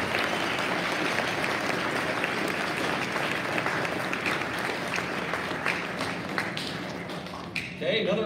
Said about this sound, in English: can we give Mrs. Crum a good round of applause?